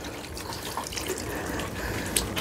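Water poured from a dipper splashes and trickles steadily over puppies being bathed, with a few small drips and a brief clink near the end, close by and without talk.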